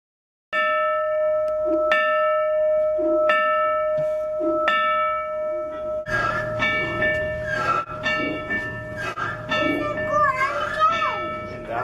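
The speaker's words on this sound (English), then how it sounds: "even ring the locomotive's bell" A locomotive bell at a railroad museum in Golden, Colorado rings out clearly four times in an even rhythm, close and bright, then keeps ringing faster amid voices and children's chatter.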